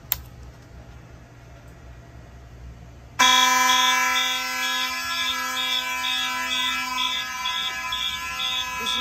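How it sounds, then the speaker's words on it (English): A Simplex fire alarm sounds after a quiet start, a loud, continuous electronic buzz with a pulsing high tone, then it settles into a steady alarm that holds to the end. "Box of fire alarms."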